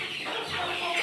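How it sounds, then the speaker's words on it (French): A rooster and hens in a farmyard, the rooster chasing the hens, with soft clucking under a steady, noisy outdoor background. "Et le coq est en courir derrière les poules."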